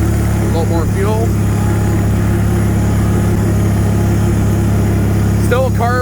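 A Bolens HT-23 garden tractor engine with a slightly seeping carburetor idles while warming up, a loud, steady, close low rumble throughout, with someone talking briefly over it.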